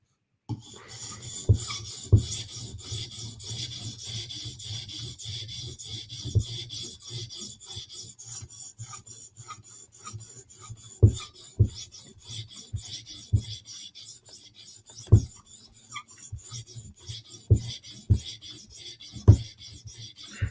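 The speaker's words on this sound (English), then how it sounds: "So we're on our 400 grit stone." A knife is drawn across a 400 grit whetstone in repeated gritty rasping strokes, close and fairly quiet, with occasional sharper scrapes and taps.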